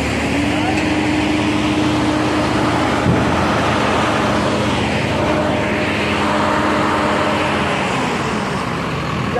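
Steady road traffic, with cars and other vehicles passing close by one after another in a continuous loud wash of engine and tyre noise, while a person speaks over it.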